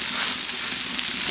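Leftover brisket reheating under a closed lid on a burner-heated cooktop, giving off a steady, loud, even sizzle with no voices.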